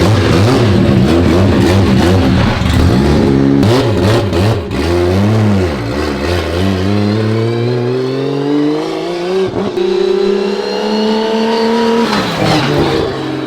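A built Toyota 2JZ engine revs hard on a dyno, loud and close, its pitch swooping up and down and then climbing in a long pull before dropping and rising again.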